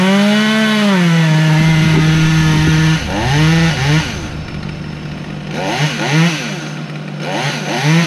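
A chainsaw cuts into a tree during felling, its engine droning loud and close, then revving up and down repeatedly as the bar bites into the wood.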